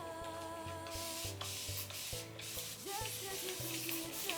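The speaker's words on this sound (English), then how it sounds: "And I'm only spraying the end now" A spray bottle of water and conditioner mists the ends of brushed hair: quick, soft hissing spritzes close by, set against a faint background hum.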